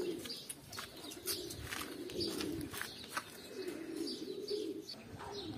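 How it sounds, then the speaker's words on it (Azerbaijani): Homing pigeons coo steadily at their loft, a continuous low, throaty murmur from several birds close by, with a few brief chirps and no talking. "Quşlarımızı uçurub belə göstərim."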